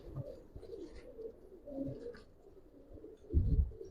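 Pigeons for sale at a cattle market stall coo in soft, faint rolling phrases against a quiet background, ending in a louder thump of handling noise.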